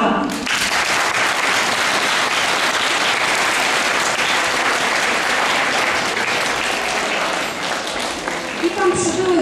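Audience applause fills an Easter 2014 school ceremony as guests and parents are welcomed, a dense, steady clapping that runs loud and unbroken for the whole stretch.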